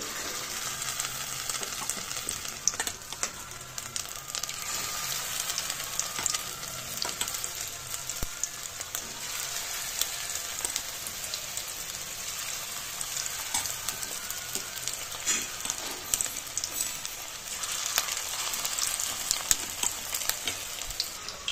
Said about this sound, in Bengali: তারপর আমি এইগুলো আর একটু যেটা বাকিটা আছে এগুলো আমি অল্প অল্প করে ভেজে নেবো